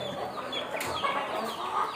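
Chickens cluck and squawk nearby in a steady, busy chorus, with no talking.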